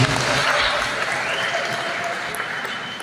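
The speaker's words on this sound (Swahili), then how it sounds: "Changie Bwana Yesu makofi na vigelegele." A church congregation applauding and ululating in praise, with dense sustained clapping and high trilling voices filling a large room, loudest at the start then easing slightly.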